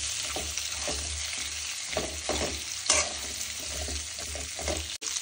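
Eggplant pieces are stirred through hot oil in a pan, giving a steady close frying sizzle with repeated scraping stir strokes across the clip.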